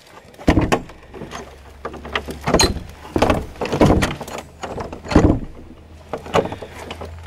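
The door of St Augustine's church at Burrough Green is tried and rattled, giving a series of loud, close thunks and clatters from handle and wooden door against a low background rumble, without voices.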